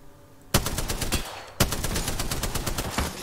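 Automatic gunfire in the video game Apex Legends starts after a quiet opening. Rapid bursts of close, sharp shots repeat in quick succession, pause briefly, then resume.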